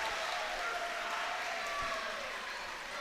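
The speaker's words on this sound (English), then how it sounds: "the mat return for Milburn gets the crowd excited" A high school wrestling crowd cheers and applauds in a gym, a steady, moderately distant roar of voices that holds throughout.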